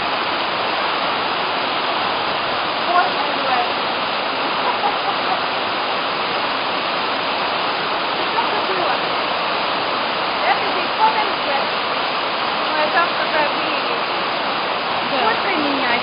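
Honey waterfalls roar in a dense, steady rush of falling water, loud and unbroken throughout, with no clear voices over it.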